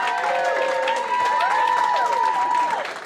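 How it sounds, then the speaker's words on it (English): An audience applauds at a children's stage event in Guildford, the clapping soft and continuous beneath bright sustained tones and cheering voices. "Keep giving them a round of applause."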